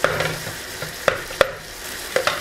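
Chicken breast fillet browning in a pan with garlic cream cheese, a soft steady sizzle broken by several sharp clinks and scrapes of a utensil stirring, close and without speech.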